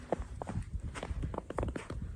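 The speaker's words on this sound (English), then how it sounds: "Can you hear the snow under my shoes?" Footsteps crunching through winter snow in Croatia, a quiet, close run of soft irregular crunches at walking pace.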